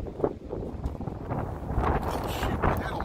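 Strong wind buffeting the microphone outdoors on a road trip, rough gusty rumbling throughout the short moment.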